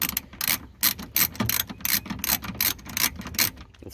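A ratchet wrench works a 10mm bolt loose on a second-generation Toyota Prius, giving a steady, close series of rapid clicking bursts in an even back-and-forth rhythm, with no talking.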